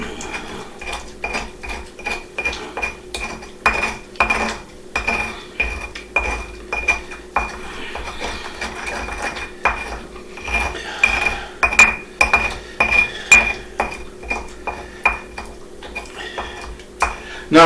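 Salt being ground into a paste in a mortar and pestle, with repeated sharp clinks and scraping strikes in an uneven, steady rhythm, close and fairly loud with no talk.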